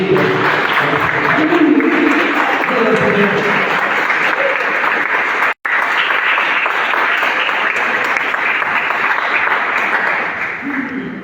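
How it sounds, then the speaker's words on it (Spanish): A church congregation bursts into sustained applause after a dance offering, loud dense clapping filling the room with a brief dropout midway and tapering slightly at the end. "Un aplauso para el Señor."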